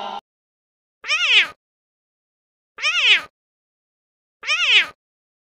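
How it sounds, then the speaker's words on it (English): Three separate meows from a cat, evenly spaced and clear, each rising then falling in pitch, with silence between them. "C for cat."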